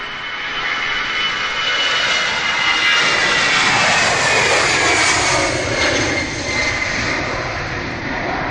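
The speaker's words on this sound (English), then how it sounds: "Lufthansa to Munich, Airbus A319." A Lufthansa Airbus A319 departs Manchester bound for Munich with a loud, broad jet roar that swells to a peak mid-way and then eases slightly, heard alone without talk.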